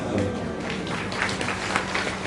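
Audience at a Hindu religious discourse breaking into continuous applause, a dense and fairly loud patter of many hands clapping throughout, with no talk over it.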